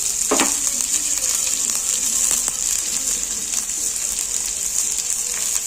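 Onions and green chillies with a pinch of salt fry steadily in a pan, a close, continuous hiss of sizzling oil with a brief stir or clink near the start and no voices.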